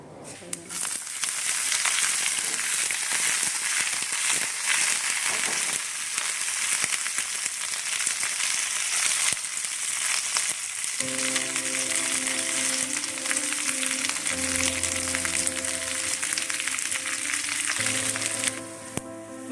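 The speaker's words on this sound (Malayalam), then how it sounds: "വെളിച്ചെണ്ണ കടുക് ചേർക്കാം" Mustard seeds crackling and sizzling in hot coconut oil in a pan, a steady dense frying hiss throughout with faint background music entering partway.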